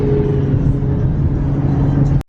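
A car drives across the Berkeley Bridge toward San Francisco, heard from inside as a loud, steady low road rumble and engine drone with no talk, ending in an abrupt cut.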